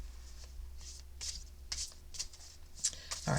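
A deck of cards is shuffled by hand in a quiet room, with a string of soft riffling bursts and flicks repeating at an uneven pace, close and fairly faint.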